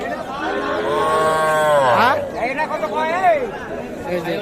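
Calves moo loudly at a crowded cattle market, two drawn-out bellows in succession close by, with people chattering and talking around them.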